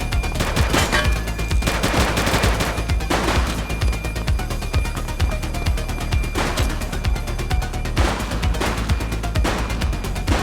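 Heavy gunfire in the PS5 police game The Precinct, with dense bursts of rapid automatic shots and single cracks layered over a constant loud din and no pauses.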